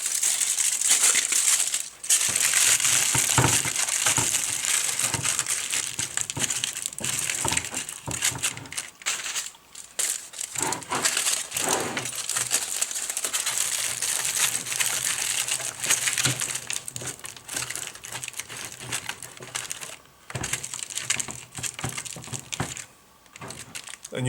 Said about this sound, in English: the aluminum foil can be smashed down and kind of molded around the opening.